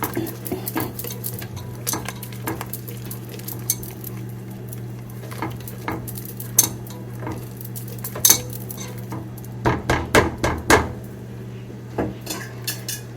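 A spoon stirs a pot of oatmeal cooking with peaches and bananas. Repeated close metallic clinks and scrapes against the pot come in irregular clusters over a steady low hum, with no voices.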